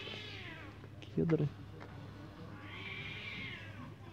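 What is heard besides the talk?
cat howling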